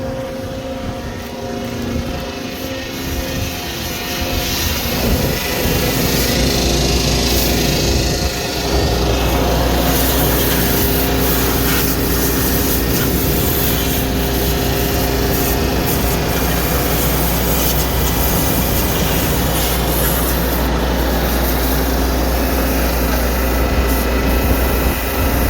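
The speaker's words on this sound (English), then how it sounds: "Turn the air compressor back on." An air compressor running loud and steady close by on a farm, with a constant droning hum and no talk.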